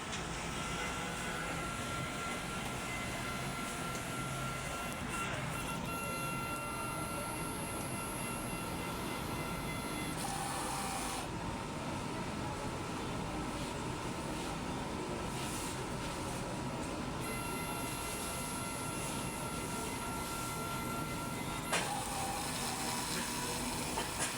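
Continuous loud mechanical whirring and rushing from a large-format printer running its head-cleaning cycle, shifting in tone a few times, with no speech.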